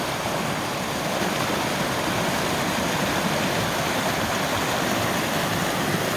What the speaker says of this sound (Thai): ได้ยินไหมคะ เสียงน้ำตก